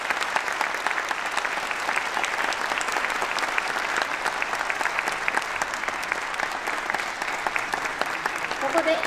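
Sustained audience applause after a performance by the Aichi Prefectural Police band at a traffic safety citizens' rally in Anjo, a dense steady crowd of clapping hands, even and continuous for several seconds.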